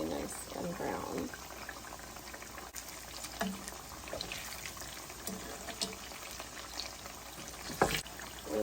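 Pickles bubble and sizzle quietly in hot oil, with scattered pops and clinks of utensils; the frying stays soft and steady.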